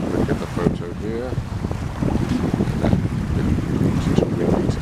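Strong wind buffets the microphone beside Loch Ness, a continuous low roaring rumble with gusty surges and splashing water texture underneath, loud and close, with a brief voice-like murmur early on.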